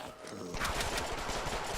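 Video game gunfire in Deadpool, a burst of rapid automatic shots kicking in after a short quieter lead-in and continuing as a dense, fairly faint rattle to the end.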